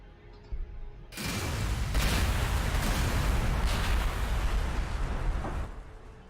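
Gunfire and shots in the video game Warhammer 40,000: Gladius, a loud sustained roar of blasts and rumbling explosions that starts suddenly and then fades out near the end.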